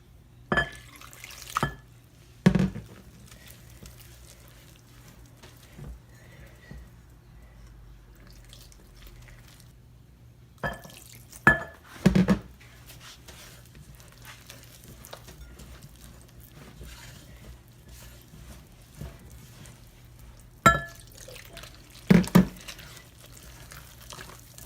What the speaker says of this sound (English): And then I'm going to add half of this water.